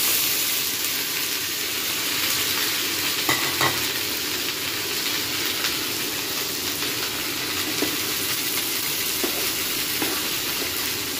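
Okra frying in a pan, a steady loud sizzle running throughout with occasional scrapes and knocks of stirring, close by and without speech.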